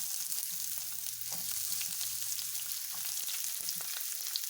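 Onions added to a pan with garlic for a chicken curry: soft, even sizzling close by at low volume, with a faint low hum underneath and a few small clicks, no talking.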